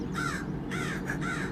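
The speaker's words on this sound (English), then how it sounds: "I hope you guys can hear the crow that's yelling at me right now." A crow caws outdoors, giving three harsh, drawn-out calls in quick succession, fairly close and clear over steady background noise.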